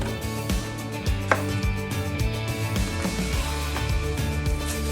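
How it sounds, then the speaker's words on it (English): Knife slicing ghost peppers in half on a cutting board, a series of sharp close chopping taps spread irregularly through the stretch, over a faint steady background hum. "slicing the tops off the ghost peppers, cutting them in half"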